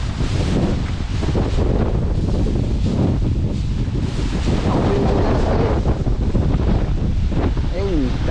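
Strong wind roars and buffets the microphone continuously outdoors at a sweet potato and banana harvest, a dense, loud rush that masks everything else, with faint voices and a brief warbling tone near the end.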